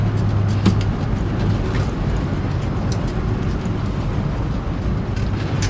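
A 1966 Ford wagon with an automatic transmission, rolling at about 25 mph and being thrown into low, gives a steady, close engine and road drone with no sharp jolt standing out; nobody speaks.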